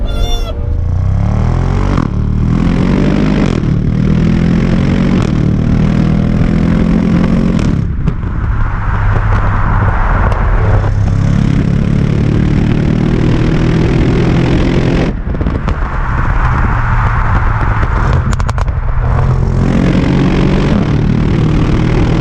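Audi RS6 Performance set to dynamic mode, its engine revving hard in loud, close bursts that rise and drop repeatedly over about twenty seconds, with sharp cracks between revs.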